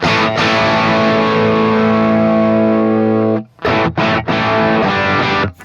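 A heavily distorted electric guitar through an Axe-Fx III, with a cabinet high cut applied, holds a thick sustained chord, then cuts off and returns in short choppy stabs, with the highs muted.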